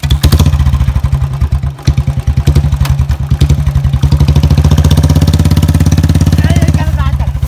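A Bullet motorcycle starts and settles into a loud, close, steady thumping idle at a funny tug-of-war stunt, its rapid pulsing beat continuing throughout with voices around it.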